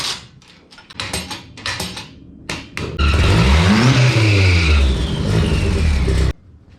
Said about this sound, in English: I'm gonna get the tractor flap on and we're gonna take it for a rip.